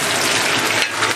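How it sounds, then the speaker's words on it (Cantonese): Four pomfret fish pan-fry in a wok, a loud, dense, continuous sizzle of hot oil close up, alone without voices. "就因為今次煎嘅魚多，所以時間亦都會長咗啲"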